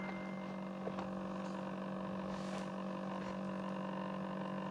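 Small cooling fan inside a car sensor fitted near an Eonon GMA13 head unit install, giving a steady, close electrical hum with a constant tonal drone throughout.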